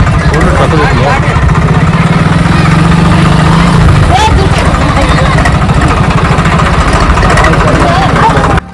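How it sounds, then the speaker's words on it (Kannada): Tractor engines idle and rumble steadily in heavy traffic at a crowded village temple fair, a loud, continuous near drone with crowd noise and voices mixed in throughout. "ಟ್ರ್ಯಾಕ್ಟರ್ ಬಂಡಿ ಅಂತೂ ಲೆಕ್ಕ ಇಲ್ರಿ. ಆ ನಮೂನಿ ಟ್ರ್ಯಾಕ್ಟರ್ ಬಂಡಿ ಬಂದಾವು."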